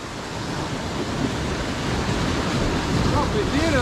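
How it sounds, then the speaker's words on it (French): Big ocean waves breaking on a rocky fishing shore, a continuous loud roar of surf and wind buffeting the microphone, close and unbroken, with faint voices underneath. "Là il y a des gros vagues, faut reculer."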